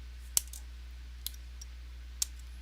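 Basing material for a miniature being trimmed, three quiet, sharp snips spaced about a second apart over a low steady hum.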